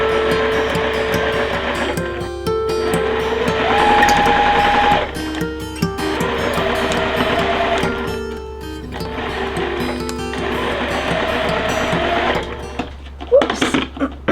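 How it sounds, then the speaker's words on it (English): A sewing machine stitches a quilt block seam from corner to corner in steady, close runs, with brief pauses and a few clicks between bursts. "just sew from this corner to that corner"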